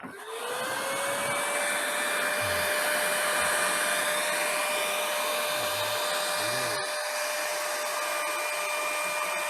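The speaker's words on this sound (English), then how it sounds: "we're going to use a beach ball and a giant leaf" A giant leaf blower roars steadily with a rising whine as it holds a beach ball aloft, a loud, continuous rush of air with a few faint low thumps beneath.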